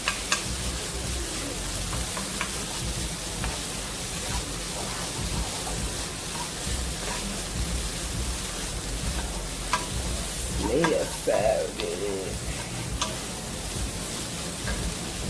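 Vegetables sautéing in a pan with the heat just switched off, a soft steady sizzle with occasional scraping stirs and a few brief clinks, no voices.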